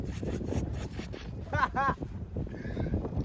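Strong gusty wind roars and buffets the microphone outdoors during a flight of an FT Viggen RC jet, a constant low rumble with a voice speaking briefly over it.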